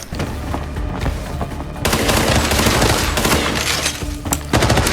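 Rapid automatic gunfire in the Arena Breakout shooter game, dense bursts of shots throughout that grow louder and heavier after the first couple of seconds, close and continuous.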